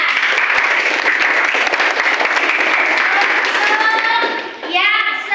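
A classroom of children claps for a classmate named Nana in an Islamic religious lesson, with brisk, dense applause that tapers off as a teacher's voice and children's speech rise at the end.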